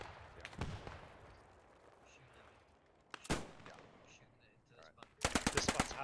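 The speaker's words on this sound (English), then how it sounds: "Get some AB-42 fire up there." AB-42 machine gun fire in the World War II shooter Post Scriptum, with scattered distant shots, a sharp close crack midway, then a rapid loud automatic burst at the end over low battlefield ambience.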